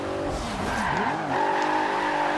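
A Nissan GTR burns rubber in Forza Horizon 2, its tires squealing in a loud, sustained, wavering screech over a roaring engine, close and continuous throughout.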